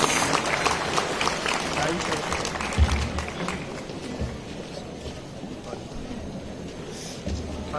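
An audience at a college Shri Ram festival event applauds loudly, a dense, continuous wash of clapping from a large crowd that eases slightly toward the end.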